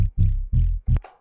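FM synth bass stab built in FL Studio with a touch of oscillator sync: four short, punchy low-heavy hits in quick succession, the last one brighter and trailing off, loud and alone.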